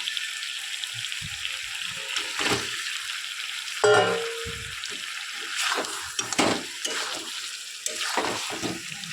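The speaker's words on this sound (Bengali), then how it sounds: "এবার দশ মিনিট মতন কষিয়ে নেব" Chicken pieces and potatoes sautéing in a pan, with a steady sizzle and repeated scraping and stirring strokes, plus one sharper clatter partway through, heard up close with no voices.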